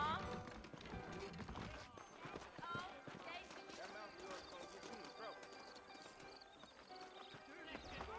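Horse hooves clip-clop at a steady trot in the video game Red Dead Redemption while voices talk over them, with a faint whinny and background music.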